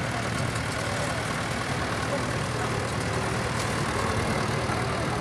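A tractor engine hitched to a seed drill idles at an agricultural show, a steady low rumbling drone that runs without change, close and fairly loud against outdoor background noise.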